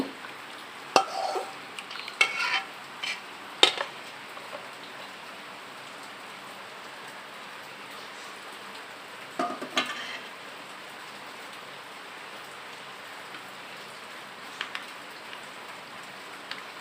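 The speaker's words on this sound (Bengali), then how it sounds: "চারিদিকে বৃষ্টির শব্দ আর আমি পুডিং তৈরি করছি" Steady rain falls all around with a soft, even wash and occasional sharper taps and clinks close by, as from someone working in a kitchen while making mango milk pudding; no one speaks.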